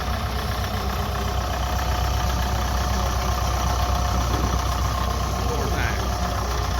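Farmall Super MTA tractor fitted with a rollover plow, idling at a show with a steady low chugging drone throughout and no change in pace, heard amid outdoor crowd noise.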